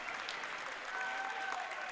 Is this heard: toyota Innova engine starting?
no